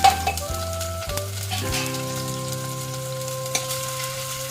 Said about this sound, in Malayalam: നമ്മുടെ വെളിച്ചെണ്ണ ചൂടായിട്ടുണ്ട് കേട്ടോ അപ്പം അതിലോട്ട് ഉള്ളിയും പച്ചമുളകും ഇഞ്ചിയും കൂടി ചതച്ചതാണ്